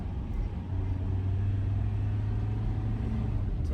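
A turbocharged car pulls through the gears with a steady low engine drone and rumble, heard from inside the cabin, fairly loud and continuous with no talk.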